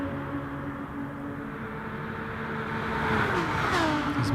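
Race car at full throttle around the Bathurst circuit in Gran Turismo Sport, its engine note climbing steadily in a sustained, loud drone that swells toward the end.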